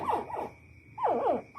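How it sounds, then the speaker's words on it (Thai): Young animals give repeated high, wavering cries in two short bursts, close by and fairly loud, with no talking. "นี่คือเสียงเรียกอาหารอาหารนะครับ"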